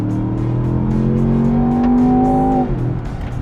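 A Land Rover Defender Octa accelerates hard in dynamic mode, its engine loud and close with a steadily rising, strained roar before a sudden drop as it shifts gear, and no talk.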